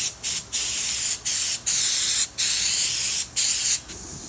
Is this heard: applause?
no